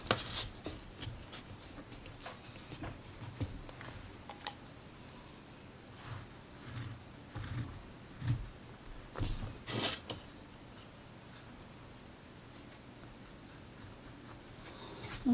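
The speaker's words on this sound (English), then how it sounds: "So I'm going to be cutting right along here." A bear hide being cut on a grid table, with soft scraping, rubbing and tapping strokes at an irregular pace, quiet and close with no talk.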